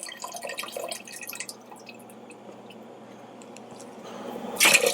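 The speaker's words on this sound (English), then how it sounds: "So generally I just use this simple broth." Broth pours into a pot for Finnish-style salmon soup, a soft trickling stream with drips, quiet and close, swelling into a brief louder splash at the end.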